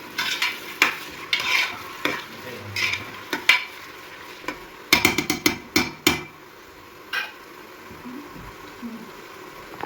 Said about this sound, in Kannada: ಈಗ ಇದು ಫ್ರೈ ಆಗ್ತಾ ಇದೆ.